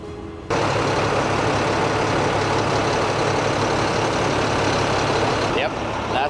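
At a truck stop at night, heavy truck engines idle nearby in a loud, dense, continuous rumble that starts abruptly and holds steady, with faint voices mixed in underneath.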